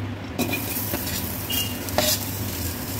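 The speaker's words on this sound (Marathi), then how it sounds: "कांदा फ्राय करायचा आहे।" Onion frying in hot oil in a pan with whole spices, a soft, close sizzle with a few light scrapes of a spoon stirring against the pan, no talking.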